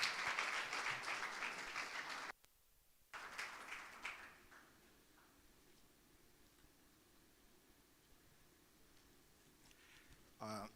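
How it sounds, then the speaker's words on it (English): Applause from an audience fills the first couple of seconds, breaks off abruptly, then gives way to quiet room noise with faint scattered rustling. "A round of applause for Mr"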